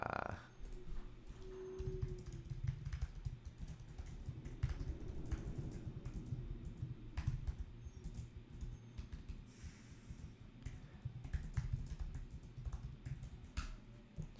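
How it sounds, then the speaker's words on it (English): Keys tapped on a computer keyboard in steady, quiet bursts of typing over a low room hum, with no talking. "So if you see me having to do some typing and things"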